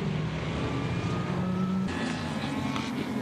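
Steady engine roar from historic racing cars on a track at Pheasant Wood, continuous and fairly loud, with a shift in pitch partway through as a car revs and passes.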